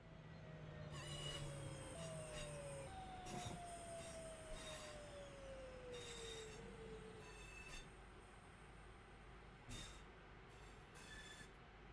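A train braking in a train simulator game, with long, high metallic wheel squeals that slide in pitch over a steady low rumble, broken by a few short clanks and hisses, and no talk.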